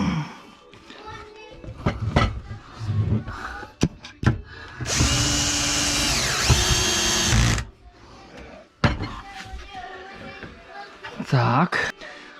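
Power drill driving screws into a wooden kitchen cabinet, one loud sustained whine of a few seconds amid surrounding knocks, handling noise and voices talking nearby.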